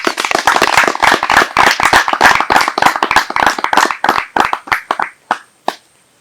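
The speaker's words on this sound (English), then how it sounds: "A round of applause for yourselves." A studio audience at a Nollywood TV show gives brisk, dense applause that thins to a few scattered claps before stopping.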